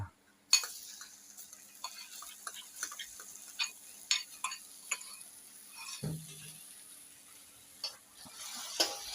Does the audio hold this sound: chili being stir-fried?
yes